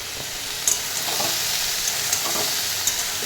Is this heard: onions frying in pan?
yes